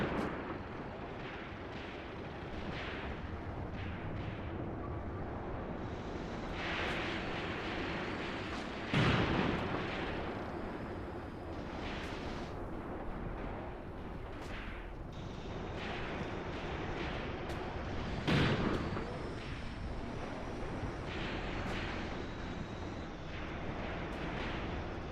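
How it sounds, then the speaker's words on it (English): Dense WW2 battle game combat rumbles nonstop: chattering machine-gun fire and booming tank cannon shots over a constant roar, with two sharp louder blasts standing out around the middle and later. "He might as well just put that machine gun to good use."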